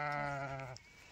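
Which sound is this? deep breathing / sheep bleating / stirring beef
sheep bleating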